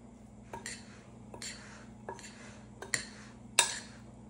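A spoon knocks against a pot of hot tuna noodle casserole with peas, onions and mushrooms as it is mixed, giving a few scattered clinks and scrapes over a steady low kitchen hum.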